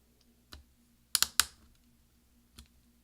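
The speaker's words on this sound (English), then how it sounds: "we're going to push down with our finger until we hear several snaps" A MacBook Pro V key pressed back into place on a mid-2010 13-inch laptop gives a few sharp plastic snaps, a quick double click followed by another, with softer taps before and after, close and fairly quiet.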